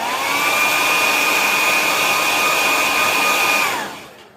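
A hair dryer blows steadily on painted work from Posca paint pens, a loud, close whirring drone with a constant whine that holds for several seconds before switching off and winding down.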